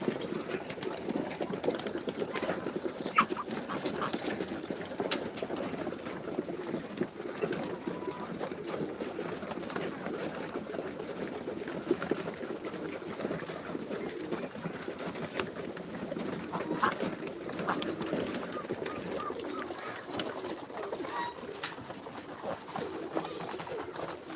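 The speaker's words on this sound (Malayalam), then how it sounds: "ഇതാ കുറച്ച് പ്രാവ് ഇപ്പം തിന്നുന്നുണ്ട്" Pigeons coo in a low, continuous murmur nearby while eating from a tray, with light rustling and pecking mixed in throughout.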